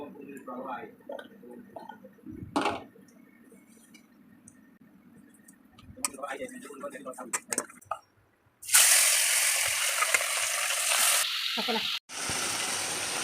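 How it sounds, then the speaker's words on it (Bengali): Pond fish frying in a pan, a soft sizzle under talk at first, then a loud, steady bright frying hiss for the final seconds with a brief break. "মাছগুলি ভাজা হয়ে গেছে মোটামুটি"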